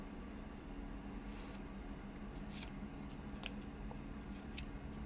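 Scissors snip macrame cord in a few quick, faint clicks over a steady low room hum, with no talking.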